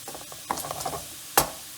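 Chicken hearts and livers being spread out in a pan, giving a cluster of light scrapes and taps followed by one sharper clack over a soft, quiet sizzle.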